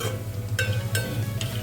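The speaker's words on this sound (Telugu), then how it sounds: "ఇంకా ఇలా ఒక 2 మినిట్స్ ఫ్రై చేసుకోవాలి." Bitter gourd with coconut chili powder fries in a pan in a low, even sizzle. Three short, bright scraping stirs cut through it, and no one speaks.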